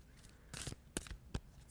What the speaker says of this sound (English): Be shuffling the cards.